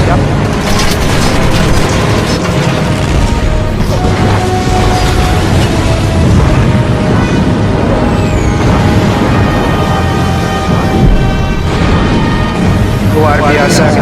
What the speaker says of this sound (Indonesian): pasukan Jepang dengan pesawat tempurnya sudah mulai membombardir pangkalan angkatan laut